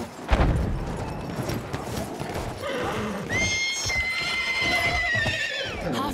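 A horse in Battlefield 1 gives a loud, long whinny with hooves clopping beneath, amid battlefield rumble and a brief impact, close to the listener.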